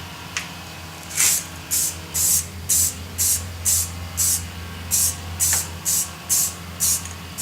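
Black spray paint hisses onto an air mover in short, even bursts, about a dozen evenly spaced sprays, close and clear over a quiet background.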